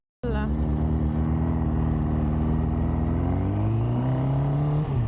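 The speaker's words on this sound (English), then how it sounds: "And there is another bike." A motorcycle engine in city traffic drones loud and close, its pitch sliding down then climbing as it revs through the gears, with a rider's helmet-wind hiss under it.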